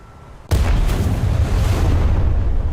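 A sudden, massive blast as the battleship Alaska detonates in a naval warfare video game, a sharp onset followed by a sustained roaring rumble that fills the remaining seconds with no speech.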